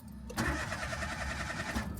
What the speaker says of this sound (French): Oh là, la voiture elle démarre plus.